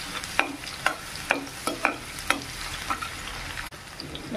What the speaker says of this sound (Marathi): तेलात आपण शेंगदाणे तळले होते त्याच्यातच आपण लसूण घालून घेऊ. आपण चांगलं लाल होत भाजून घेऊ.